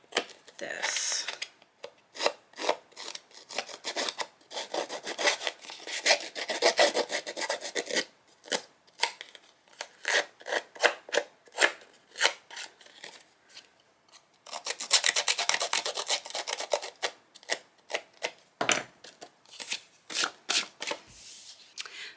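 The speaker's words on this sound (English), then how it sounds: "you can just distress the edge of your paper using this tool" A crafting tool scraped along the edges of patterned paper, giving repeated rough rasping strokes in quick bursts, close and fairly loud, with brief pauses between runs.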